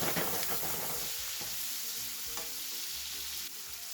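Sliced red onion sizzles and crackles steadily in hot oil for beef pilau, a constant frying hiss with occasional louder pops and a faint stir.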